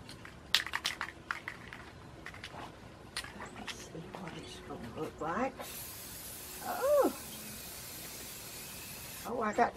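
Several clicks and rattles of a spray paint can, then a steady hiss of spray starts midway and runs continuously over a terracotta flower pot, with a person's voice and whimpers over it.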